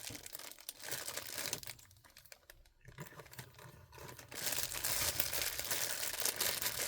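A gift bag crinkles and rustles up close as it is handled and a tag is tied on, in uneven bursts with a quieter pause midway before louder, steady crinkling resumes.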